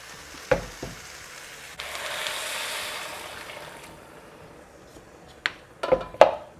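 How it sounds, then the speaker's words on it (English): Boiling water poured into a pan of chickpea and paneer pulao: a brief sizzle and splash followed by a soft, swelling hiss of steam, then a few clinks of utensils against the pan toward the end. "700 ml of boiling water goes in"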